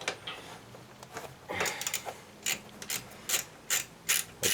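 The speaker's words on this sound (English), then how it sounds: "10mm socket and a ratchet." Ratchet with a 10mm socket clicking as it loosens carburetor bolts on a Chinese TaoTao 110 quad, bursts of close, crisp pawl ticks in short uneven runs with brief pauses between.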